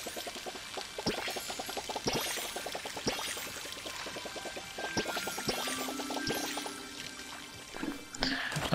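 Water pours steadily while crops are watered in the cozy farming game Palia, a continuous splashing stream over light background music, with brief pauses and a soft voice at times.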